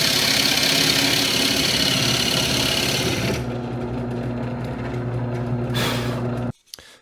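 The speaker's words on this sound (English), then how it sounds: "So I got my hole all drilled" A drill press boring a 1 3/4 inch Forstner bit through a clamped wooden workpiece gives a steady, loud motor whine with a grinding cut, then the pitch shifts as the bit passes through before the machine stops abruptly.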